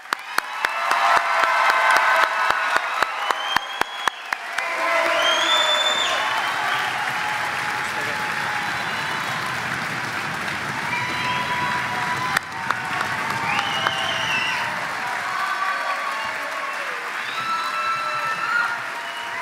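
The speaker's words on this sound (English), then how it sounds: "Please join me in a large round of applause." Sustained audience applause at a school promotion ceremony, a dense wash of many hands clapping with a few isolated loud claps near the start, continuing steadily and tapering slightly toward the end with faint cheering.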